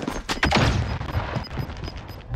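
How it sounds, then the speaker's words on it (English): A flashbang grenade goes off in a first-person shooter game amid a burst of rapid gunfire, loud and close, with repeated sharp cracks and a ringing tone lingering afterward. "Flashbang out!"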